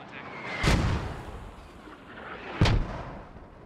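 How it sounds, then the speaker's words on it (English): Two heavy mortar reports in the Squad video game, each a sharp booming crack with a rumbling tail, spaced about two seconds apart against a quiet, low background. "Mortar's decidedly off target there as the Russians already displaced."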